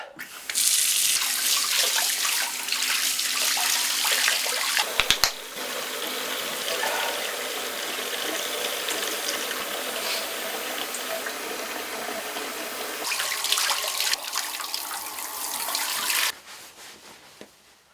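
Feet washed under water running from a tap; a steady, loud, close rush of water pours continuously for about sixteen seconds with a brief break midway, then cuts off.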